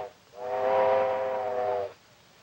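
A steam locomotive's whistle sounds as the train pulls in, a single loud, sustained chord-like blast lasting about a second and a half, rising and then cutting off cleanly with no talk over it.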